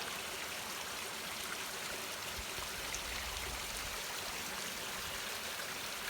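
Water flows in a small canyon stream near Day Canyon and Smith Ridge, a continuous broadband rush and trickle, faint and steady, with no voices.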